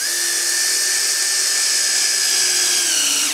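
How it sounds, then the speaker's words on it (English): A power drill drives a screw into a wooden garboard plank on a Caledonia yawl boat build, giving one steady, close, high whine that holds even for a few seconds and then cuts off. "we'll actually just screw this rather than clamping it."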